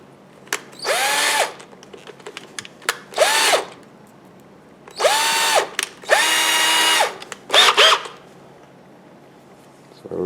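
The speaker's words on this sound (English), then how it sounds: "And here's my drill." A power drill boring a hole while a craft figure of a Native American woman with a blanket is assembled, heard as several loud whirring bursts of a few seconds each, with short mechanical clicks between them and no talk.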